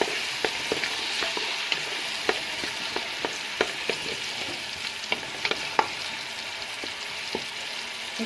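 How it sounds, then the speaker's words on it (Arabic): Two chopped onions with salt and pepper fry in a pan, making a steady close sizzle broken by frequent small pops and clicks of stirring. "قطعت البصلاية اهي، بصلتين، حطيت لهم الملح والفلفل وهحمرهم"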